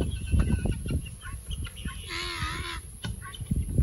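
Backyard chickens cluck and fuss nearby on a quiet evening, with a rising squawk in the middle and soft scratching and movement around the calls, no talking.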